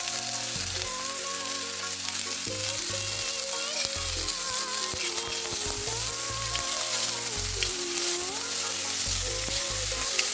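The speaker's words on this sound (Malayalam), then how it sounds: "നമുക്ക് വെളിച്ചെണ്ണ ഒഴിച്ചു കൊടുക്കാം നമ്മുടെ സവാള ഇട്ട്" Sliced onion fries in coconut oil for cutlets, a dense continuous sizzle heard close up with a steady tonal musical backdrop running beneath it.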